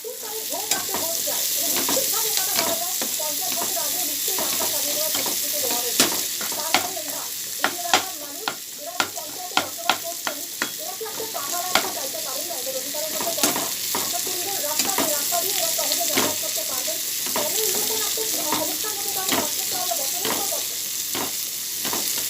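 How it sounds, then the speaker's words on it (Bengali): Sliced onions and potatoes sizzle in a hot frying pan, with a constant crackle of oil and frequent sharp scrapes and clinks of a spatula stirring against the pan. "যে পেঁয়াজটা ভাজা হয়ে গেছে, এই যে আলু আর পেঁয়াজ।"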